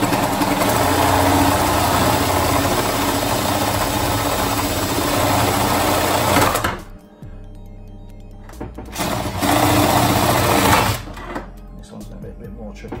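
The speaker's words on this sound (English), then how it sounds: "So then I'll just cut the rest of the hole out from the inside." A power tool cuts a hole through the inside wall of a fridge being converted into a kegerator, giving a loud, continuous grinding buzz that stops briefly, resumes, then cuts out again.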